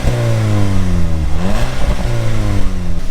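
An Audi S3 8P TFSI engine revs hard on the road, loud and close, pitch climbing through a gear, dropping briefly at a shift, then rising again.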